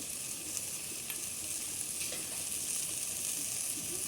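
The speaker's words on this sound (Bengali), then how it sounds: "এখন আমি মিশিয়ে নিই মশলা দেওয়ার পরে মশলা সহ কচুর ভালোভাবে নেড়ে" Taro leaves with spices frying and being stirred in a pan for a hilsa and taro leaf dish, a steady close, loud sizzle with faint scraping stirs throughout and no talking.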